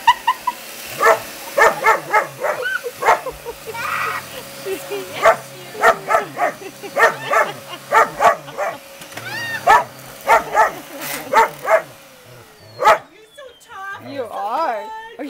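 A dog barks repeatedly at a running vacuum cleaner indoors: sharp, close yips and barks in an irregular rhythm over a steady machine hum, with whimpering yelps near the end.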